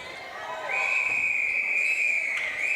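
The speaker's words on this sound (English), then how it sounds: "And that does it with that whistle." A referee's whistle ends the quarter at a netball match in the Australian Men's and Mixed National Championship, sounding one long, loud, steady shrill blast that starts shortly in and holds to the end over faint arena ambience.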